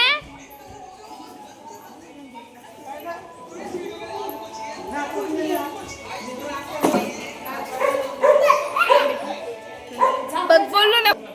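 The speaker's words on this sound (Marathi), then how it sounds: "तो कुत्रा येऊन चावल तुला." A dog barks repeatedly in bursts, with yips growing louder toward the end, while children chatter and shout nearby in a lively home setting on the first day of the Ganpati festival.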